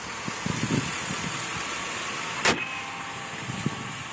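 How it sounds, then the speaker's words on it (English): A 2003 Chevrolet Silverado 1500 HD 4x4 V8 engine idles with a steady low rumble, broken by a few soft knocks and one sharp click partway through. "300 horsepower, smooth running V8"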